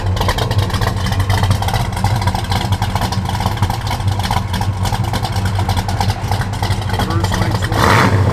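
A 1970 Plymouth Road Runner Mopar V8 runs loud and close with a steady, rumbling idle and slight revving throughout, a voice speaking briefly over it near the end.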